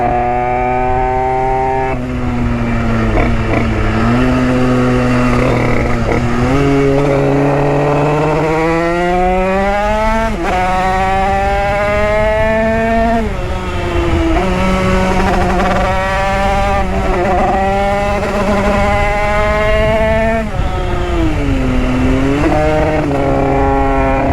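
Derbi 80cc Italkit motorcycle fitted with an AC Dev 80 exhaust, ridden in light rain. The engine is loud and close throughout, its pitch climbing and dropping again and again through repeated revs and gear changes, with no talking.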